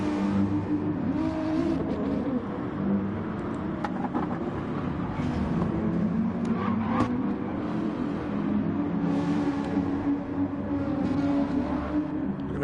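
Race cars circle the Nürburgring GP circuit in GT Sport, a steady loud drone of engines and tyre noise running the whole time, with a few sharper passing surges and no voices.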